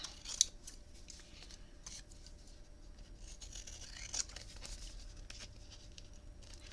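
Scissors trimming a notecard, a series of quiet crisp snips and paper rustles spread evenly across the stretch, faint against a low background hiss.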